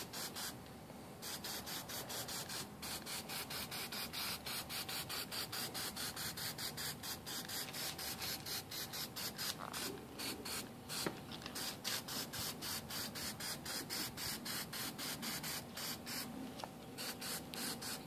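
An aerosol spray can coats a motorcycle headlight reflector from a Yamaha R6 in a run of short hissing bursts with brief pauses between them, steady and close, with no talking.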